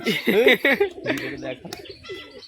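A white-and-green male pigeon among fancy pigeons for sale coos in short throaty bursts, interleaved with chirps and someone talking over them at close range.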